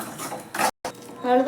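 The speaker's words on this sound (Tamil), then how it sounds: "ஆறுறதுக்காக லைட்டாக ஒரு கிண்டுக்கு கைஸ்" A ladle scrapes and clinks through a pot of tempered kuzhambu curry as it cools, a few short metallic strokes close by, broken by a brief gap and then more stirring.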